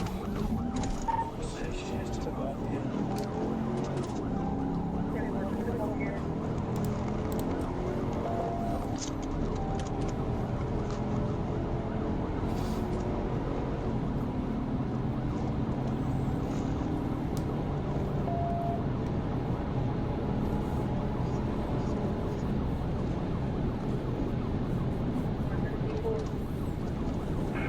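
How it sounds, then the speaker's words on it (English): A police squad car races at high speed, about 122 mph, with the engine and road roar dominating a steady, continuous wash of noise while a siren sits faintly beneath it for the whole stretch. "the squad car is going so fast that the sound of the engine almost completely drowns out the siren."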